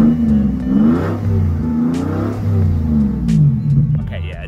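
A straight-piped Japanese V12 engine in a luxury car revs up and down in several rising and falling sweeps, loud and close, with a deep harmonic roar.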